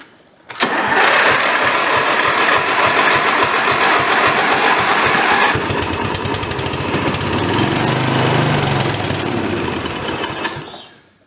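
Tractor engine cranks over and catches after being choked, then runs steadily and loud up close, a rough rhythmic chugging with a clattering mechanical beat that continues for about ten seconds before cutting off.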